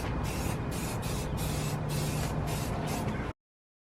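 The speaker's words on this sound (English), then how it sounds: "I also got this Eastwood tank tone. I'm gonna spray paint it" Eastwood Tank Tone paint sprayed from an aerosol can in one continuous loud hiss, close and steady for over three seconds before stopping abruptly.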